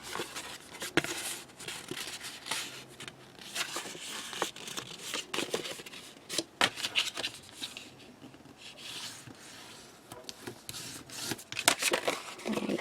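Paper folded along score lines for a mini cracker box: soft rubbing, creasing and crinkling with sharp taps, close and quiet, and no talking.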